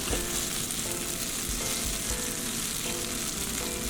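Steady crackling sizzle of a cheesy Korean potato pancake (gamja jeon) frying in a pan on low heat, continuous and close, with faint rhythmic scraping and no voices.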